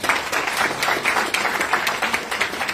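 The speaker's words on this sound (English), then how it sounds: "Give yourselves a round of applause." Audience applause at a personal transformation seminar, a dense steady clatter of many hands clapping that holds at an even level through the whole stretch with no voices over it.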